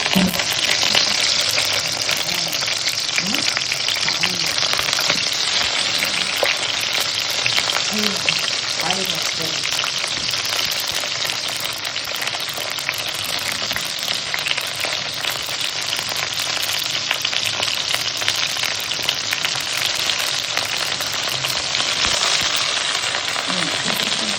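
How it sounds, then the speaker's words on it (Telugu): Brinjal (eggplant) fries in a pan with a steady, dense sizzle that holds for the whole stretch, with faint voices underneath. "వంకాయ ఫ్రై చేస్తున్నాను."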